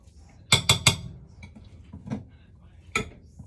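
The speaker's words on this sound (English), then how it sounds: "start flipping it and using the back of my spoon to spread it over" A metal spoon clanks sharply against a pan three times in quick succession, then gives softer scrapes and one more clear clink as it spreads and flips a mixture, close and distinct in a quiet kitchen.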